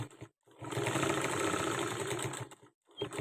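A sewing machine runs in one steady burst of rapid stitching while sewing thread piping onto a blouse lining, starting and stopping cleanly with short pauses at each end; no talk.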